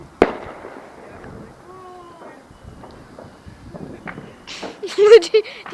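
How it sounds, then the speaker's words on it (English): Firecrackers go off outdoors, one sharp close bang at the start followed by scattered fainter pops, with people talking and calling out toward the end. "They're doing firecrackers, I think."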